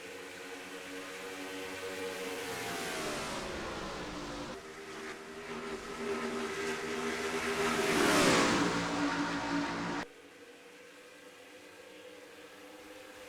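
Race cars at Rockingham in a racing video game: engines rise and fall in pitch as cars pass and accelerate, swelling to a loud peak before cutting abruptly to a quieter steady engine hum.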